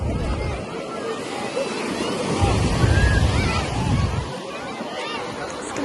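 High, strong sea waves breaking on the beach at Alexandria, a continuous roar of surf with a heavier surge in the middle, mixed with wind buffeting and faint background chatter.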